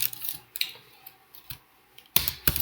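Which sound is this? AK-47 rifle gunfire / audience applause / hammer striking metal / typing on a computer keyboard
typing on a computer keyboard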